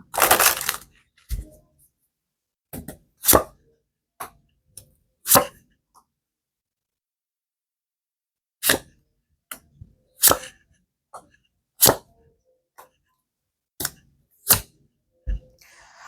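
Tarot cards are shuffled by hand, producing sharp, separate riffles and slaps, each brief and close, scattered irregularly across long silent pauses.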